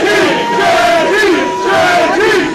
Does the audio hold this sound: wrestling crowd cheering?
yes